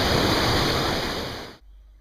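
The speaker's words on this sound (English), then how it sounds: "So this is one of the main attractions, the Kulen waterfall, about 15 meters or so high. Water's flowing pretty good this time of year in October." Broad, steady roar of the Kulen waterfall, about 15 meters high and flowing strongly in October, loud and continuous before cutting off abruptly near the end.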